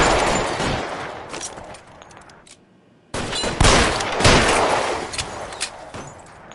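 Gunfire in the video game L.A. Noire during a shootout, with loud sustained volleys of shots, a short near-silent gap, then renewed heavy firing with sharp individual cracks.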